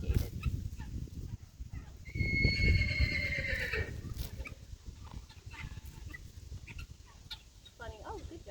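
Quarter horses whinnying, one long neigh rising clearly for about two seconds mid-clip amid outdoor stable noise, with faint hoof clops and distant fowl calls around it.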